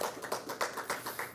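Audience at an annual planning and review event clapping in a sparse, uneven run of about seven distinct claps rather than a full ovation.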